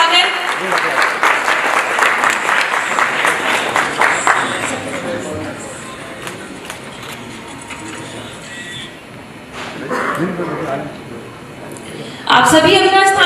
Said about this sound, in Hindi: जोरदार तालियों से इनका स्वागत।